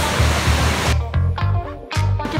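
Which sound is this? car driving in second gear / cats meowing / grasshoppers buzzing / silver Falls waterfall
silver Falls waterfall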